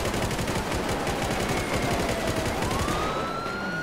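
Rapid gunfire during a police chase in GTA V, dense repeated shots under a wailing police siren that sweeps upward near the end, loud and continuous.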